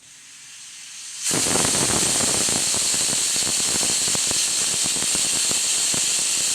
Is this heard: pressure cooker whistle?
yes